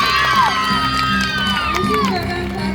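A school audience cheers and shouts loudly, with children's high whoops and voices rising over a dense crowd roar that holds steady throughout the short burst.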